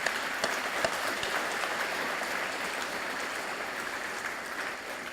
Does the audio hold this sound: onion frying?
no